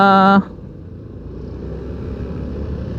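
Engine of a 2023 Honda Supra X 125 PGM-FI motorcycle, a steady rough drone running close and loud after a short tonal sound cuts off at the start.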